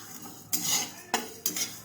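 Cumin, coriander, fennel and panch phoron dry roasting in an unoiled pan for mango pickle, heard as three short, sharp scraping stirs of a utensil against the pan with quiet pauses between and no sizzle.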